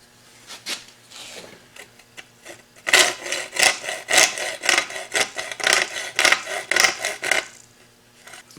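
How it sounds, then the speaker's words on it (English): Hand file working along the edge of a template, with steady rhythmic rasping strokes that repeat close-up and fairly loud after a few quieter scrapes, and no talking. "nice easy strokes will cut down the template edge"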